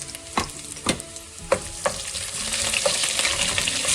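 Ginger and garlic fry in hot oil for a Goan-style beef vindaloo. A spoon knocks and scrapes the pan several times over a sizzle that builds and turns steady.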